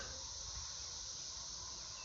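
A steady, shrill hiss of cicadas drones from outdoors, constant and unbroken for the whole stretch, fairly faint overall with no voices.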